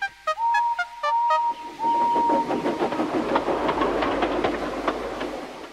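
A steam tank engine on a model railway blows several loud whistle toots, then puffs steadily into a station with rhythmic chuffing and rail clatter that builds and carries on.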